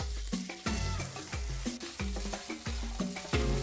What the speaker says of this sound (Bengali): গ্যাসের ফ্লেমটা কমিয়ে রেখে একটু নেড়ে নেব